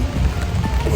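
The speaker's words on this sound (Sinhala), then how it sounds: "අපිට හොඳටම වහිනවා." Rain falls on a rainy day in Italy, a close, continuous patter and hiss of drops hitting surfaces, with a low rumbling undertone and no clear voices, lasting about a second.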